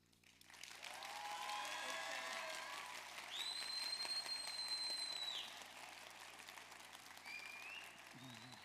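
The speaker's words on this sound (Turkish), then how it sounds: "isimleri okuyun, alkışları alalım." Sustained audience applause at a televised cooking competition final, dense clapping filling most of the stretch, then thinning slightly toward the end, with faint voices mixed in.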